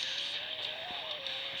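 A car in a demolition derby video game accelerates at full throttle with a sustained, whining engine tone that holds steady and shifts slightly in pitch, a little distant and moderately quiet throughout.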